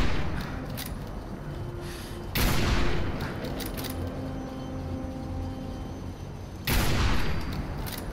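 Gunshots from Fallout 4 ring out in two loud sharp blasts a few seconds apart, each followed by a lingering tail over a quiet ambient game background.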